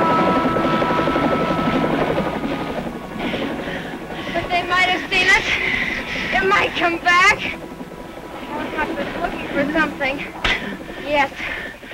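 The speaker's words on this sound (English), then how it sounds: "A helicopter!" A helicopter flies in a 1962 film scene, its thudding rotor drone steady and fairly loud at first, then fading under excited shouting voices that dominate the rest of the scene.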